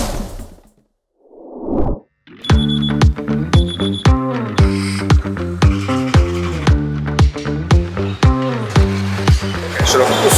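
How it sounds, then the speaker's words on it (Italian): A phone alarm set for 3 a.m. rings with a steady repeating melodic pattern of tones after a brief whoosh and sigh, loud and close. "Mettiamo la sveglia alle 3 e poi si parte."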